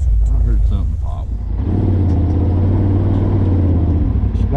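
An off-road machine's engine revs as the throttle opens, a loud steady rumbling drone rising and holding close by, with voices talking over the start.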